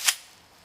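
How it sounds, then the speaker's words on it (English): A single sharp gunshot cracks out as a Glock 9mm round is fired from a Kel-Tec Sub-2000 carbine at spinning targets, followed by a faint distant tick or ping. "let's take a couple shots at those spinning black targets"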